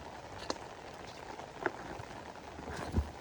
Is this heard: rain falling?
yes